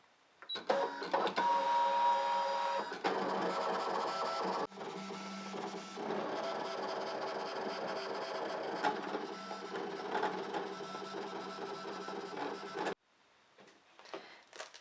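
A Brother ScanNCut machine cuts paper: a continuous mechanical whir with rapid clicking and stepping motor buzz, steady and close, stopping abruptly near the end before a few faint clicks.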